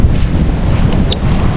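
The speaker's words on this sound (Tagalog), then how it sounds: "punta tayo dito sa dagat" Wind buffets the microphone with a loud, steady low rumble while sea waves wash on a beach at Bolinao, Pangasinan, with no voices.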